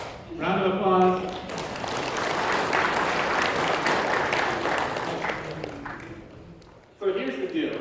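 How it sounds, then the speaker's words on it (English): A church congregation applauds after a sermon demonstration with volunteers: a brief spoken line, then several seconds of full, even clapping that slowly thins out before a speaker continues talking. "Round of applause."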